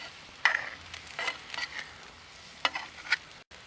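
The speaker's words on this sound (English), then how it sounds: "You see it sizzling a little." Faint, steady sizzling from a pot of creamy stew with asparagus and celery over a backyard fire pit, broken by a few short clinks and scrapes of stirring.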